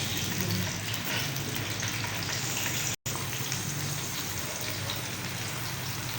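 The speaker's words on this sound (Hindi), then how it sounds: "प्याज को हल्का गोल्डन ब्राउन कर लेंगे" Onions frying in about one and a half spoons of cooking oil, giving a dense, steady sizzling crackle that continues throughout with a brief dropout midway; no talking.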